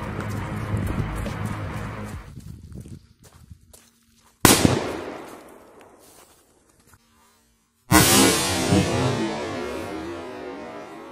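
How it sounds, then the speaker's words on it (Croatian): Two powerful firecrackers go off in turn, each a sharp, loud blast followed by a rumbling decay, after a stretch of noisy outdoor background and quiet gaps. "sljedeća petarda. Ovo će biti pucanje dobro."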